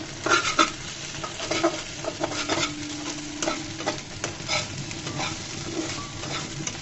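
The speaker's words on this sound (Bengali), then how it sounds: "ডিমটা আমার ভাজা হয়ে গিয়েছে।" An egg fries in oil in a pan, giving a soft steady sizzle with repeated scraping and stirring clicks from a utensil, close and fairly quiet with no talking.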